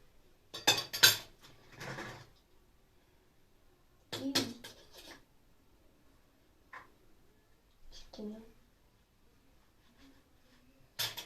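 Dishes and cutlery clink and clatter during hand washing, in short scattered bursts of metallic and ceramic knocks separated by quiet gaps, fairly close and soft.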